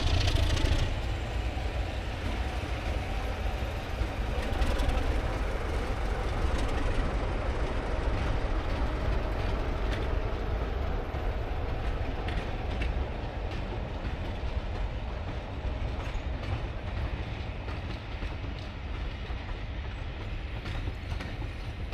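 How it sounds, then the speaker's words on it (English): Old railway carriages roll past a level crossing beside a station near the beach, producing a continuous loud rumble with rhythmic clatter of wheels on track throughout, no talking. "So you've got some old carriages, and there's actually one coming"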